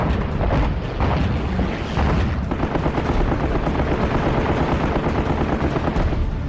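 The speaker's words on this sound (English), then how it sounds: "The gutsy pilots brave a sky torn with flak." Dense anti-aircraft flak fire fills a battle sky over Leyte Gulf as carrier aircraft attack the Japanese battleship Musashi, a loud unbroken roar of overlapping bursts and rattling gunfire with no pauses.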